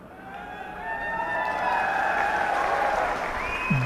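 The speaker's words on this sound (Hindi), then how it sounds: "अभी आपने ताली बजा दी" A crowd at an outdoor election rally in Haryana applauds steadily, a broad wash of clapping and cheering that swells and holds for several seconds, with faint tonal whistles rising above the noise.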